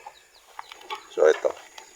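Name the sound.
turkeys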